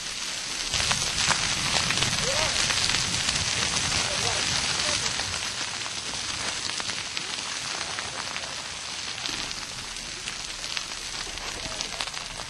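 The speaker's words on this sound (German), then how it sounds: "Noch ist der Flächenbrand nicht unter Kontrolle." A wildfire burns through jungle vegetation with a dense, continuous crackling and hissing roar, steady and fairly loud, with faint voices beneath it.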